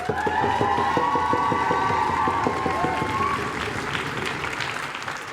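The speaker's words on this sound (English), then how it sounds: "our one graduated senior, Lauren Framke, if we can give her a round of applause" Audience applause for a graduating senior at a children's multicultural dance group celebration, steady and fairly close, mixed with a sustained tone and a rhythmic beat underneath, tapering slightly toward the end.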